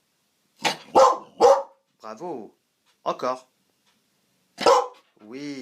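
A Malinois named Gun barks on command, three sharp close barks followed by a few more separated by pauses, interleaved with a person's spoken commands and praise.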